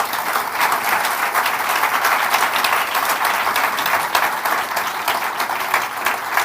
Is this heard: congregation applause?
yes